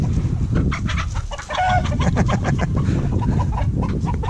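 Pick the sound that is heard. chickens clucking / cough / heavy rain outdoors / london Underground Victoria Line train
chickens clucking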